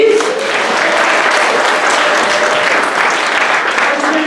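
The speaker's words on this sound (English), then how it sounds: "Can you guys clap for her, please?" Loud, dense clapping from a crowd at a children's science show, applauding a volunteer called up to help, with faint voices mixed into the steady applause.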